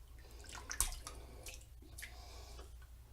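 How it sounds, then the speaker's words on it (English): Several quick, faint wet flicks and taps as water is knocked out of a soft synthetic-knot shaving brush, with a low steady hum underneath. "So just knock out the excess water."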